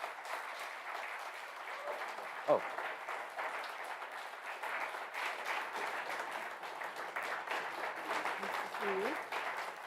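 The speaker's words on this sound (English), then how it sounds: "Let's give Fran a big round of applause." An audience at a clean car standards anniversary event applauds Fran Pavley with steady, moderate clapping that runs throughout, while a voice calls out briefly over it.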